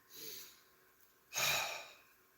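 A person breathes in softly, then exhales a breathy open-mouthed "ha," two close, quiet breath sounds with a louder, longer exhale.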